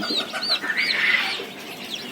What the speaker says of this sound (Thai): นี่ก็ไก่ตีนโตครับชุดรวมเหมือนกันครับ ไก่ตีนโต ไก่ดำแล้วก็ไก่บ้านนะครับ